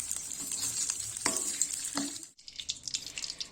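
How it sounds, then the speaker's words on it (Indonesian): Chopped topping fries half-cooked in hot oil in a pan with a steady, close sizzle and occasional stirring scrapes. The sizzle briefly drops out partway through, then returns more sharply. "Untuk topping ini cukup digoreng setengah matang saja"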